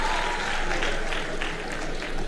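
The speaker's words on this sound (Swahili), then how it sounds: "Makofi jamani, kwa sababu walijaribu sana." Steady applause from a studio audience at a live Kenyan lunchtime news broadcast, continuous and fairly even for the whole stretch, with no clear voices on top.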